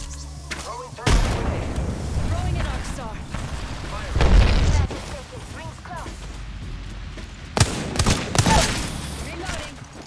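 Frag grenade blasts in Apex Legends: several heavy booms amid gunfire and game effects, loud and close, with players talking over the action.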